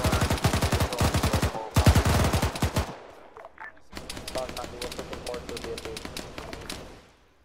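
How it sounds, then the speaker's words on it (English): Rapid bursts of gunfire from an Arma 3 infantry battle: dense, loud automatic volleys fill the first three seconds, then a quieter stretch of scattered distant shots and rattling continues. "Sniper will just unloads on him"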